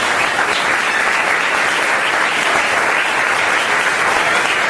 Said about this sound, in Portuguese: Agora aplaude o nome do Senhor Jesus.